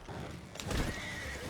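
Horse whinnying in the Red Dead Online video game, a drawn-out neigh rising over steady game ambience with a dull thud, fairly close and moderately loud, without speech.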